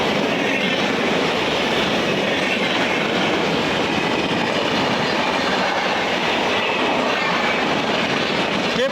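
The Kamakhya–Old Delhi Brahmaputra Mail rushes past at Barthana station, a loud continuous roar of rolling wheels and clattering coaches that holds steady throughout with no voices.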